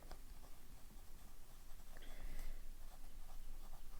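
A Lamy fountain pen filled with Diamine ink scratches across paper in faint, close, continuous strokes, soft irregular rasps with brief pauses and no speech.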